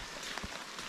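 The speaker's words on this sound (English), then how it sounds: "And raining, light rain right now" Light rain falls on a wet mountain trail near a shelter on the Appalachian Trail, a soft, steady patter that stays faint and even throughout.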